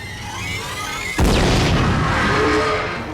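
A sharp, heavy boom from fireworks in a television battle scene bursts out abruptly after a steady background rumble, followed by a long crackling, roaring wash of sound that slowly fades.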